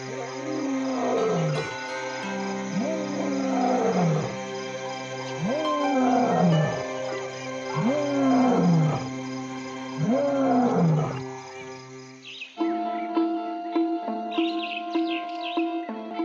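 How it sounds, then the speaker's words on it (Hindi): A wild lion roaring at night, a series of about five deep, grunting roars spaced at regular intervals, fairly close and loud, then fading into quieter night-time bird or insect calls. "उसकी दहाड़ पूरी रात नियमित अंतराल पर सुनाई देती रहती है।"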